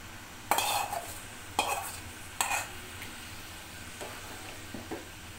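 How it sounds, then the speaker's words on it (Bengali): Cooked chicken being stirred into rice for chicken biryani in a pot, three sharp scraping strokes of a spoon followed by softer taps and shuffles over a faint low hum, close with no speech. "রান্না করা মাংসটা দিয়ে ভালো করে নেড়ে চেড়ে মিশিয়ে নিছি"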